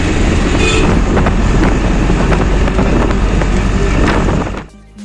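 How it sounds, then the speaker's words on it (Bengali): A passenger train bound for Tarapith in West Bengal rumbles loudly and steadily from inside a carriage, with faint rhythmic wheel clicks over the roar, before the noise drops off abruptly near the end. "এই ট্রেনে উঠে গেছি আর ট্রেন ছেড়েও দিয়েছে।"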